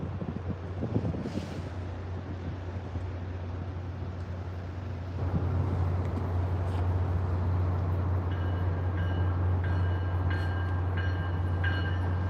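An MBTA train rumbles steadily nearby as it slows to a stop, with wind buffeting the microphone. The noise swells partway through, and thin metallic brake squeals appear toward the end.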